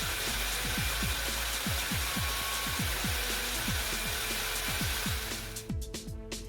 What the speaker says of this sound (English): I got this tube notcher here that I set up in the vise, and I'm going to cut all my pieces out.